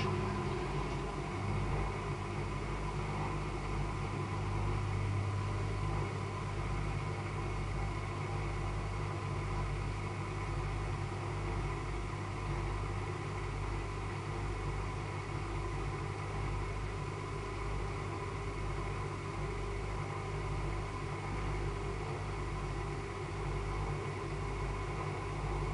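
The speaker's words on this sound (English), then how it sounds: "First interim spin after the wash." A Hotpoint WDD960 washer dryer spins a load of coloured bedding in its first interim spin, a steady, continuous mechanical hum and whir at even loudness throughout with no talking.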